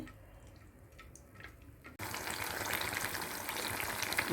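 Quiet, faint crackles give way abruptly to a loud, dense sizzle of chicken pieces deep frying in hot oil for chicken 65, continuing steadily.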